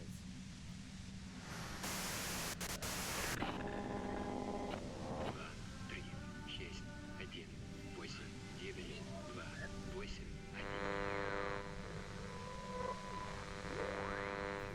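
White-noise static in the video game Disco Elysium: a loud broadband hiss that swells and fades around layered tonal game sounds.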